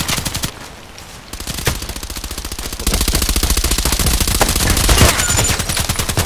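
Rapid automatic gunfire in the Contract Wars first-person shooter, a dense rattling stream of shots with a few brief gaps, loud and close.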